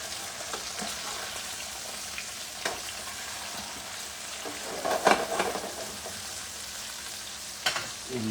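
A breaded pork Milanese cutlet sizzles and fries in an All-Clad pan, a steady crackling hiss with a few louder spattering pops around the middle and near the end.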